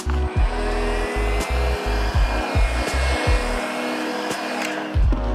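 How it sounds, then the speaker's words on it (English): A heat gun blows a steady hot-air hiss onto plastic graphics, its motor pulsing with a repeated low throbbing as it is worked over the surface. "I'm going to just apply a little bit of heat, enough that I can heat up the graphics without burning my finger"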